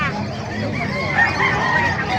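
Busy poultry market in Bocaue, Bulacan, with dense chicken calls, clucking and squawks layered over a steady murmur of crowd talk.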